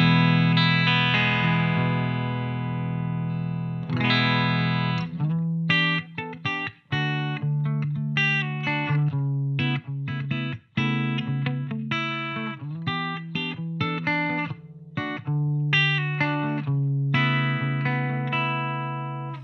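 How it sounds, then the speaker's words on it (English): An electric guitar plays through the clean channel of a Bogner Goldfinger 45 amp with the bright and deep switches off, opening with a sustained chord and then moving into a run of picked notes and chords, loud and close. "Let's start with checking out the clean channel of the Goldfinger 45."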